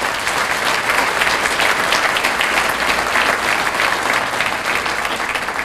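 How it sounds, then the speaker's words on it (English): Steady, dense audience applause fills a school district State of the District event, loud and continuous throughout with no talk over it. "So I think that deserves a round of applause for them."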